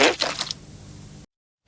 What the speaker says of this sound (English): Farting, thank God I ran to the toilet.